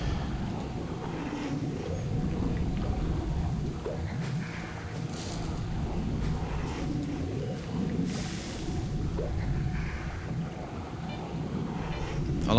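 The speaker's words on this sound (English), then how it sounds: "I like the rain effect, that's pretty good." Steady rain with distant rumbling thunder from an ambient weather effect in the S.T.A.L.K.E.R. game, The Wind of Time, a continuous dense wash that holds through the whole stretch with occasional low swells and no voices.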